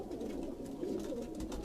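A pigeon coos softly in a low, throaty murmur over a brief moment, faint and close, with light background noise.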